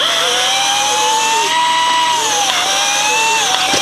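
A cordless power drill whines loudly and steadily up close during installation of a kitchen kickboard fan heater, its motor pitch dipping and rising as it bites under load.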